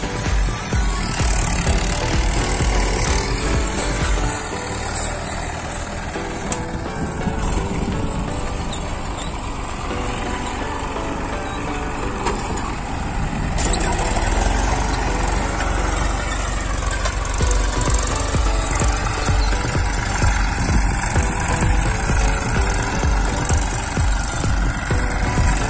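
Mahindra 415 and Massey 241 tractors pulling cultivators together in the same field, a steady rumbling diesel drone with continuous vibration, fairly close and unbroken throughout.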